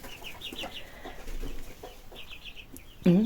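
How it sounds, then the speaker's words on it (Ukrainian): Laying hens in a henhouse give soft, repeated clucks at close range, ending in a sudden louder squawk, with no talk over them. "Курочка сидить ще. Що ти там несешся?"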